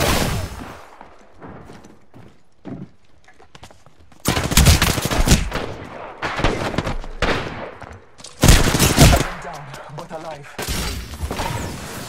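Gunfire in the video game Apex Legends, loud bursts of rapid shots in several clusters with quieter stretches between, while people talk over parts of it.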